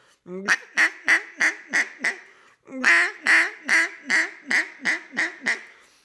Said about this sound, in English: a little feeder chuckle, a little bounce, and then maybe just a super soft, subtle Cajun hen